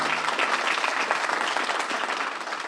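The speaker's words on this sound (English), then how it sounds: "Give him a big round of applause." Audience applause fills a large hall at a New Orleans Saints event, a dense, steady clapping from a big crowd that holds at an even level for the whole stretch with no voices over it.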